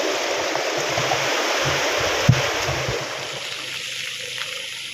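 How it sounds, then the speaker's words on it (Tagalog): Heavy rain pours steadily with gusting wind during a flood on farmland, a broad continuous wash of water noise with a brief thump near the middle and no voices. "Hindi pa rin hinto. Tuloy pa rin ang buhos ng ulan"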